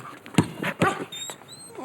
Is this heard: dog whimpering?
yes